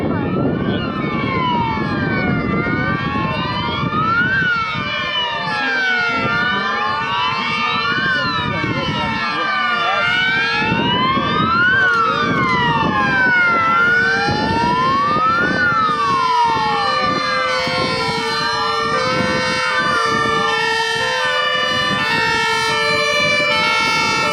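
A loud wailing ambulance siren sweeps up and down continuously, close by and dominating as it arrives, with several overlapping siren tones and road noise beneath.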